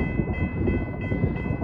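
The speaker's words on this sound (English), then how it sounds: "Looks like we have a manifest headed this way." A westbound BNSF manifest freight train with a CN helper unit rolls past at close range, giving a steady, dense rumble with a faint high whine from the rails and no voices.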